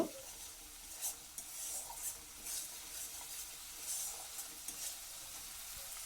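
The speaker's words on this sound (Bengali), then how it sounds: "দিয়ে এটাকে ভালো করে নাড়াচাড়া করব" Tomato and sauce simmering in a pan are stirred, giving a soft, fairly quiet sizzle with intermittent scrapes and light taps of a utensil against the pan at irregular intervals.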